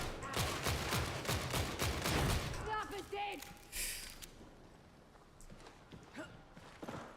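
A recon lasgun fires rapid, sharp bursts at a heavily armoured bulwark enemy in Warhammer 40,000: Darktide. The volley is dense and close early on, then thins out under game voices and scattered clatter.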